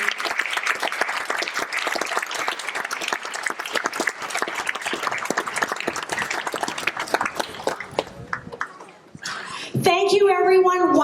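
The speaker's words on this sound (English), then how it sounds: "So please, everybody, a round of applause to Linda and her entire family." A crowd at an outdoor community festival applauds steadily for several seconds, the clapping fading out before loud cheering and voices rise at the end.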